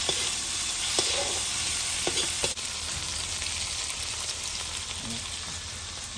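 Liver frying in a pot of Batangas lomi over a strong gas burner, a steady close sizzle and crackle with a few brief stirring clinks, heard alone.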